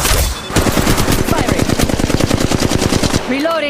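Rapid machine-gun fire rattles loudly and continuously in a video game, dense bursts of shots close up for about three seconds before cutting off to a brief tail with a faint electronic sound.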